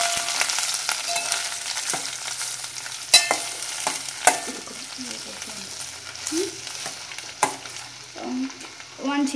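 Curry leaves sizzle steadily in hot oil in a pan for an okra curry, close and moderately loud, while a utensil stirs with scraping knocks and a few sharper taps.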